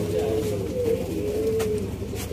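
Low, throaty cooing of Sialkoti black-faced pigeons repeats in soft rolling phrases over a steady background hum.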